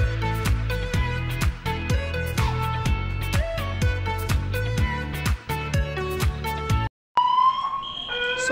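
A loud building fire alarm sounds as a steady, rapidly repeating electronic pulse for about seven seconds, then stops briefly before a different warbling, siren-like alarm tone starts up close by.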